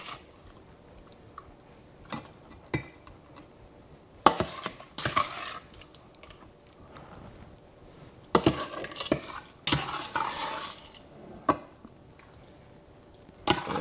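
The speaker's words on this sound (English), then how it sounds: "I'm spreading it out between the 2 bowls with each scoop" Quiet kitchen scene of sour cherry juice being scooped between two bowls, with clinks of a spoon against dishes, soft liquid splashes and scraping in irregular bursts separated by near silence.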